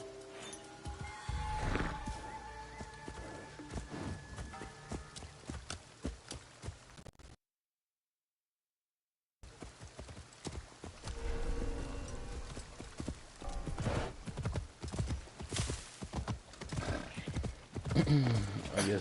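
Hooves clip-clop steadily with an occasional whinny in the video game Assassin's Creed Shadows, pausing briefly into silence before the trotting resumes.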